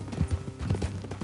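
Horses trotting in Red Dead Redemption 2, a quick run of close hoof clip-clops in uneven rhythm with soft rumbling behind.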